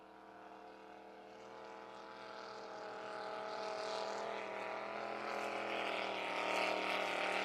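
Drag racing boat engine at a San Angelo event, a steady harmonic roar building gradually in loudness and pitch over several seconds, heard from a distance without talk.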